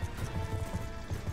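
Horse hooves gallop in the Black Ops 2 video game, a steady drumming beat running the whole time under a dense, noisy game soundscape.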